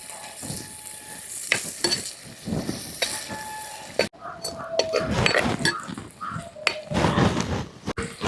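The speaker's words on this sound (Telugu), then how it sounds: "పెద్ద ఉల్లిపాయలు వేసి వేయించుకుందాం." Large onions frying in hot oil crackle and sizzle loudly in a pan while a spoon stirs and scrapes against the metal in uneven bursts, close up and without speech.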